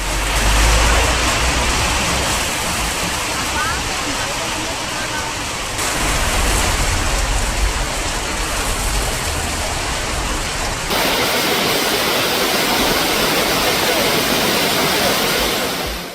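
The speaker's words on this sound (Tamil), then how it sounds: "திண்டுக்கல் மாவட்டம் கொடைக்கானலில் பெய்த மழையால் குளிர்ச்சியான சூழல் உருவானது" Rain falls steadily in Kodaikanal, Dindigul district, a dense continuous hiss of heavy drops that runs unbroken, with brief shifts in level across the recording.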